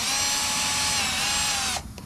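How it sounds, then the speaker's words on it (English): A power drill driving a self-tapping screw while installing an agricultural grain cart cover, a loud close whirring motor whine that runs steadily for under two seconds before stopping abruptly. "Just a self-tapping screw,"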